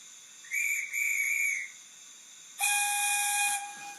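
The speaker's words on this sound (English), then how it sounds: "when you press the guard's whistle" A model train guard's whistle gives two shrill tones, followed by a louder, brighter steam whistle blast with hiss, all clear and close.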